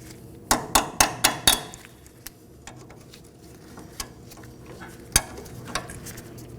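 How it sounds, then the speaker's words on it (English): Cutters snip through a locking cotter pin on the front axle nut of a 2013-2019 Nissan Sentra. A quick run of five sharp, close metallic clicks comes first, followed by a few scattered softer clicks and taps, with no talking. "We're going to remove that. I'm using some cutters."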